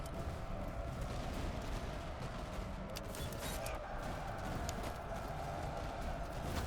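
Musket volleys crackle in the Master of Command video game during a Prussian campaign battle, with scattered shots popping over a constant rumble of marching troops and horses, moderately faint and far off.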